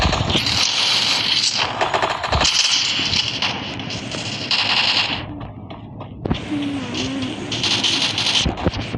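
A P90 fires in the Free Fire video game in loud, rapid bursts. Each burst is separated by short pauses against a steady background hiss.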